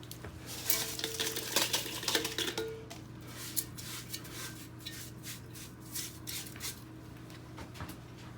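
Aquarium substrate scooped out of tanks: gritty scraping and rattling of gravel against a scoop, busiest at first, then sparser scoops and rustles over a steady low hum.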